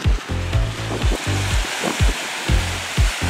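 Ocean surf with whitecaps breaking along a stormy beach, a series of close, loud rushing wave washes arriving every half second or so, no voices.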